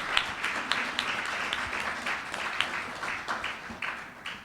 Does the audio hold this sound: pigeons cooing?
no